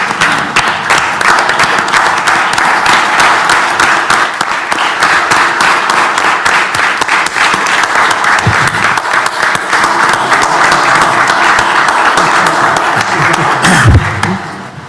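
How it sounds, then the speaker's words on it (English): Sustained, loud applause fills a university board of supervisors meeting room, a dense steady clapping from a gathered audience lasting throughout without pause. "Please join me in a round of applause"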